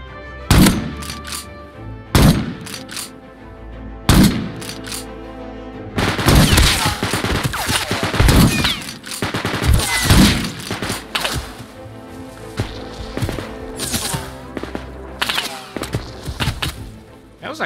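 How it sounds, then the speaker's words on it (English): Gunfire in the survival video game Rust, a string of loud sharp shots: three separate blasts in the first few seconds, then a dense, sustained burst of rapid fire with heavy thuds and impacts continuing to the end. "How is that guy still shooting at me?"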